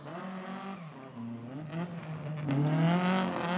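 Peugeot 205 GTI front-wheel-drive rally car at a Corsican rally start, engine revving hard and rising in pitch as it accelerates through the gears, loud and close, with no talk.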